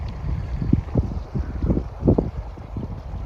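A breeze gusts over Bala Lake at a small pebble island, low rumbling buffets against the microphone that rise and fall in uneven pulses, close and moderately loud.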